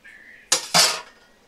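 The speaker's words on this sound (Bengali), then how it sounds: "দেখো আমি ঢাকাটা দেখো খুলে নিচ্ছি।" A metal lid lifted off a cooking pot of lau (bottle gourd) and prawns simmering on a low flame: two sharp clanks of metal on metal close by, the second ringing a little longer before fading.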